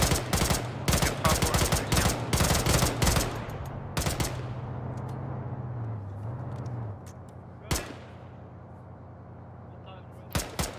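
Heavy gunfire in an Arma video game battle: rapid bursts and overlapping shots, loud and close for the first four seconds, then a steady rumbling engine hum with a few scattered sharp shots later.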